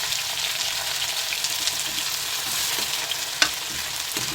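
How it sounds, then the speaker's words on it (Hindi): Chopped onion and cumin seeds frying in oil in a pan for a Rajasthani vegetable dish, giving a steady, close hiss and sizzle with a few sharp pops and spatters throughout, no talking. "तब तक इसको मैं फ्राई करती हूँ इसमें"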